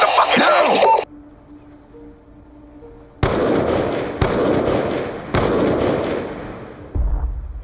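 Gunfire in the Call of Duty: Black Ops 2 video game: three loud, sharp blasts in close succession, each with a ringing tail, following a brief burst of talk and a quiet tonal hum.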